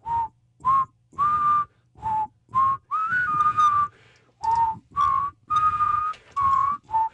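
A person whistles a tune in a radio studio, clear and close, in a string of short separate notes and phrases with brief gaps between them and no talking.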